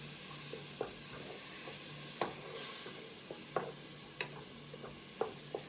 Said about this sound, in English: I'm just gonna let this, these onions just start to brown up a little bit